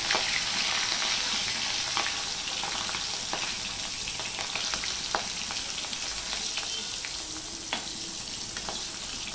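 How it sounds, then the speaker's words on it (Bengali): Prawns fry lightly in mustard oil with a steady close sizzle, a dense crackle broken by small pops and the scrape of stirring, with no voices. "এবার আমি চিংড়ি মাছগুলো ভেজে নেব, হালকা করেই ভেজে নেব, বেশি কড়া করে ভাজবো না।"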